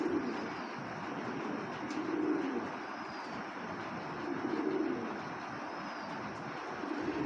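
A Red Fox racing pigeon with red checker feathers coos softly in low, rounded phrases, two swells a few seconds apart against a steady background hiss.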